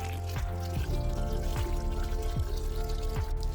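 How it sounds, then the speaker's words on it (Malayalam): Water poured into a container of fermented jackfruit-waste fertilizer, a steady close pour with a regular glugging rhythm throughout, no voices. "അപ്പോൾ നമുക്ക് ഇതിൽ നിറയെ വെള്ളം ഒഴിക്കാം"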